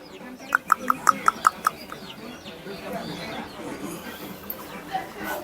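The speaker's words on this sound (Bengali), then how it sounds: "বাচ্চার পাশে ছোট্ট মুরগি ছানা" A small baby chick peeps in a quick run of about six short, bright calls near the start, then fades into faint rural village background with people talking nearby.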